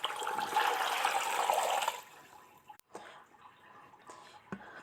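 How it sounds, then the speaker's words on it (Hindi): Water poured from a jug into a cooking pot holding large pieces of bone for a curry, a steady splashing gush for about two seconds, followed by quieter trickling and clinks of the pot. "1 जग पानी डालूँगी इसके अंदर।"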